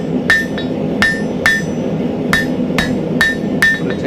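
A blacksmith hammers a small piece of steel to draw it out for a can tab opener: about nine sharp, ringing metallic strikes in an irregular rhythm, close and loud, with no talking.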